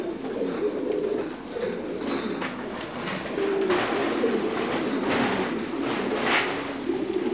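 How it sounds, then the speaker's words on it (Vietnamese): Thai Titan pigeons at a pigeon farm coo steadily in low, overlapping calls. A continuous flock murmur stays fairly loud and close throughout, with no talking. "Đây là những chim bồ câu ở trại của mình, rất là khỏe khoắn."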